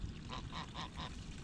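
Farm geese coming to the water honk in a quick run of four nasal calls, fairly close over a soft background.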